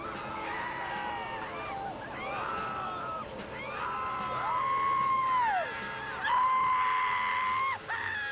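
Screaming from a film plays inside a video game, several drawn-out, wavering shrieks and yells layered over a noisy background, moderately loud and continuous.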